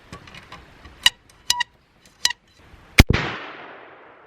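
A single loud, sharp blast from a Traditions Hawken percussion muzzleloader fired outdoors in the woods, followed by a long rolling decay, after several lighter clicks and taps beforehand.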